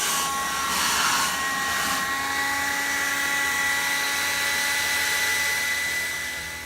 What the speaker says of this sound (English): we're going to take this blower and we're just going to clean out the rest of the gutters